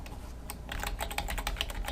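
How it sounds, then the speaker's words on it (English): Fast typing on a computer keyboard, a close, steady patter of keystrokes over a faint background hiss. "I can't type"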